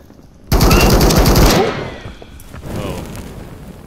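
A loud, close burst of rapid automatic gunfire in an extraction shooter video game rattles for about a second, then trails off into echoing reverberation and a softer rumble.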